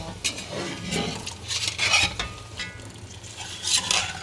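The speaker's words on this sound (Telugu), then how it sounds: "బిర్యానీ మటన్ వేసేస్తున్నామండి" Mutton being tipped into a home biryani pot and stirred, with scraping ladle strokes and metal clinks against the vessel, close and moderately loud, with no talking.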